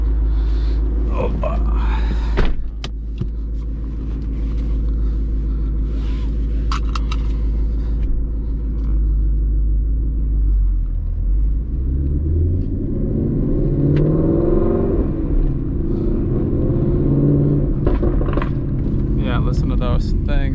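A supercharged Ford Mustang engine rumbling deeply while driving, then revving and accelerating with rising pitch, loud and close from inside the car, with a person talking over it.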